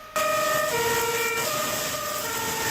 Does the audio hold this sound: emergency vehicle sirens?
yes